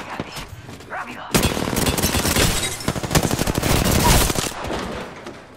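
Gunfire in Apex Legends begins as a sudden sustained burst of rapid automatic shots, then continues as a loud, dense crackling fusillade for several seconds before trailing off.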